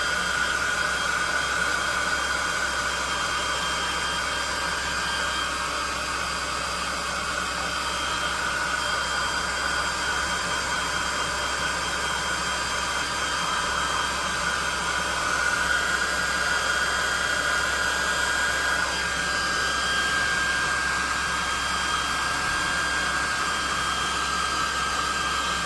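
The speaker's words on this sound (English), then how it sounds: "hot air gun burning on low heat" A hot air gun runs on low heat while drying a handmade tabletop RPG craft piece, giving a steady, loud, continuous airy roar and whine that holds unchanged throughout with no talking.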